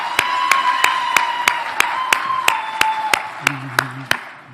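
Clapping rings out at a veterinary white coat ceremony, a run of sharp, evenly spaced claps in a steady rhythm over a faint sustained tone, with a voice briefly underneath near the end.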